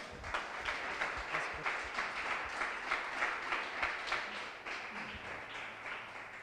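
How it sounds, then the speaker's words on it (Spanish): A church congregation applauds during a Wednesday worship service, a dense, steady patter of many hands clapping that carries evenly through the whole stretch at a moderate level. "Vamos a darle para un aplauso al Señor"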